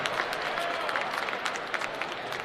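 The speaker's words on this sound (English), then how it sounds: "maybe a little bit of a round of applause is due" A crowd at a GCW wrestling event applauds in a continuous spread of dense clapping, moderately loud and steady from start to finish.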